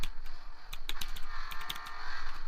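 Fast, steady clattering of keys on a mechanical keyboard with blue switches during gaming, crisp clicky strokes close up with no talking.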